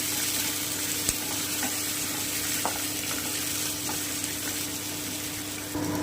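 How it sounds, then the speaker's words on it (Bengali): Ginger, green chilli and tomato fry in a pan with a steady, dense sizzle throughout, broken by a few faint clinks of stirring. "আমি একটুখানি ভালো করে ভেজে নিচ্ছি"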